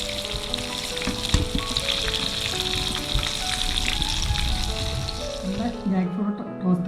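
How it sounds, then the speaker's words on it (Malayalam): Jackfruit pieces frying in oil, a steady loud sizzle and crackle with occasional clinks of a utensil turning them, continuing under a voice before fading out at the end. "എല്ലാം ഇതുപോലെ മറിച്ചിട്ടെടുക്കാം രണ്ട് സൈഡുമായി കഴിയുമ്പോൾ കോരിയെടുക്കാം രണ്ട് സൈഡും ഫ്രൈ ആയിട്ടുണ്ട്"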